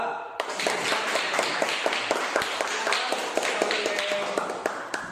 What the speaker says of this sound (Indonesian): Kita tepuk tangan lagi untuk kelompok 2